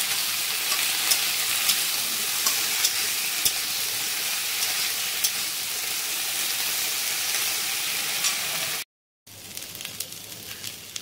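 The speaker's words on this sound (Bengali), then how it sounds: "ধুয়ে নিয়ে যে কড়াতে তেল দিয়ে দিচ্ছি, তেলের ওপর ভেজে নেবো" Washed vegetables fry in hot oil in a wok, giving a steady, close sizzle and crackle that runs without pause, with one brief cut-out near the end before the sizzling resumes.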